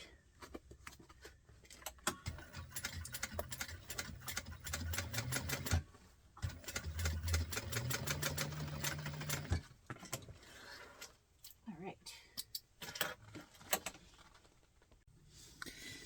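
A sewing machine stitches a bag in close, rapid bursts of mechanical whirring, pausing briefly between runs and ending in shorter, scattered stitching spurts.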